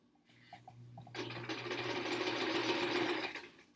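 A vintage sewing machine stitches a quilt block, starting with a few faint clicks and a low hum, then running in a steady, close mechanical whir for about two seconds before stopping.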